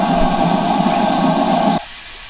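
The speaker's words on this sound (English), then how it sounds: "Lots of steam and smoke" A West Somerset Railway steam locomotive, stopped at a station, vents steam in a loud, steady hissing rush, then cuts off abruptly, leaving a quiet background.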